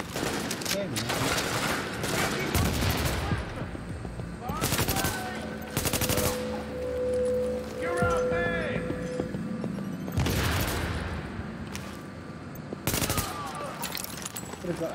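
Bursts of automatic gunfire and single shots from the video game The Division crack out in loud, repeated volleys across the stretch, with a voice talking in between.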